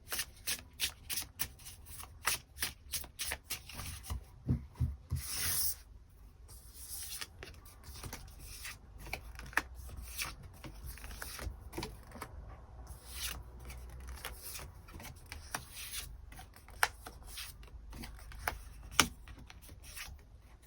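Tarot cards are shuffled by hand in repeated quick riffling bursts, crisp and close, with short pauses and softer handling rustles between rounds and no talking.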